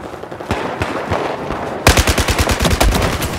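Battlefield 4 gunfire: scattered single shots, then a rapid, loud automatic burst of rapid-fire shots that continues to the end.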